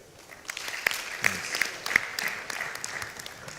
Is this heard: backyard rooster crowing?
no